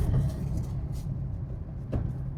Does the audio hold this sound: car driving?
yes